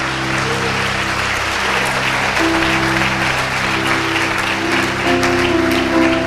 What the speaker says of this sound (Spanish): Aplauda, celebre, celebre.